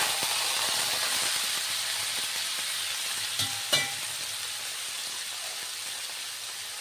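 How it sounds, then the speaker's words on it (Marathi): Cooked vegetables hiss and sizzle in a hot pan while being stirred, a steady broadband frying noise with a couple of sharp clinks of the spoon partway through and no talking. "आता हे शिजवून घेतलेल्या भाज्या घालतो आपण."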